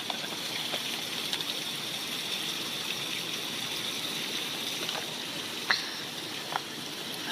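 Water is squeezed through a portable hiking water filter as a continuous close trickling stream, with a few small clicks and squeaks from handling the filter.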